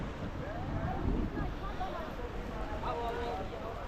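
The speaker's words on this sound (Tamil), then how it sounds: "இந்த கங்கை நதி போகிற சவுண்டு," The Ganga river flows at Haridwar in the early morning, a dense, steady rushing of water close by with a faint voice partly under it.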